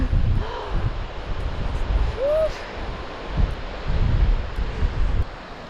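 Wind gusts buffet the microphone at an open camp spot in Denmark, a steady rushing roar that swells and eases in uneven bursts, with faint bird calls in the background.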